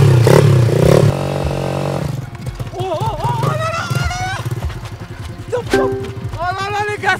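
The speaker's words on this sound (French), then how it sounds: "ma moto Temu, elle s'est mieux cabrée que la moto de Wish" A cheap Temu motocross motorcycle revs hard and loud up close as it pops a wheelie, and the engine whine climbs and drops while excited voices shout over it.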